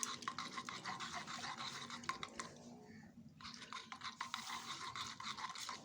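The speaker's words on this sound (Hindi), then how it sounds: "इसे अच्छी तरह मिक्स करना है ताकि जो हमने इसमें गुड़ डाला था वो गुड़ इस दूध में मिक्स हो जाए" Medicine and jaggery being stirred into milk for deworming Aseel chicks, a steady soft scraping and swishing that runs continuously, with a brief quieter dip midway.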